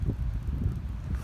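Strong wind of about 40 miles an hour blows through a winter hammock campsite, heard as a brief, low, close buffeting rumble.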